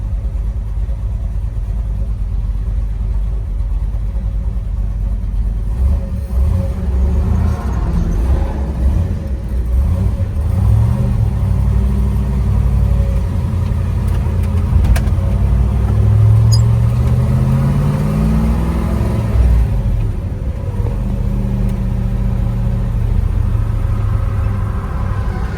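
A 1966 Chevrolet Chevelle SS 396 V8, a numbers-matching 360 hp L34, drives on a road in Kentucky, its deep engine rumble steady and loud throughout with a rising pull midway through.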